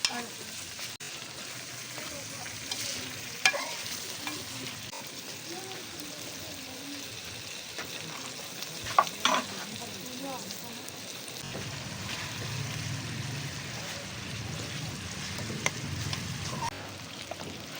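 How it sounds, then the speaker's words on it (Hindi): Soft, steady sizzling of chicken stir-frying in a pan, with occasional clinks and scrapes of stirring, close and fairly quiet. "इसको हम हल्का हल्का सा साथ में भूनेंगे।"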